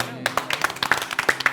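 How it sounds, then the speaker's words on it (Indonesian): Clapping in a house during a game show, a quick run of sharp, separate hand claps from a few people starting after a brief pause, close and crisp, with voices mixed in. "Tepuk tangan."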